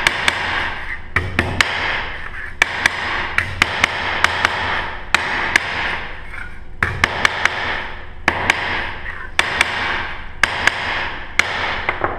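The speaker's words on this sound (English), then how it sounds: "we're just gonna flatten out all of our cuts" A ball peen hammer flattens cut sheet metal in a workshop, striking in sharp, ringing metallic blows, sometimes singly and sometimes in quick pairs or bursts, close and loud with no talk.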